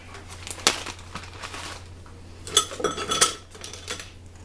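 A rice ladle scrapes and clinks against frozen mushrooms and a container, giving scattered sharp clacks and a cluster of rattling knocks, close and fairly loud.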